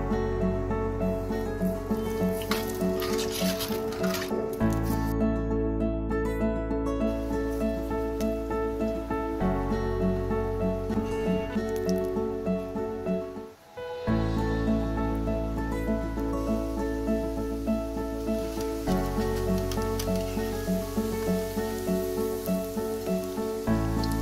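Sev made from water chestnut flour deep-fries in hot oil with a steady, dense sizzle and bubbling that runs continuously and close, broken only by a brief dip, under a looping musical background with no speech.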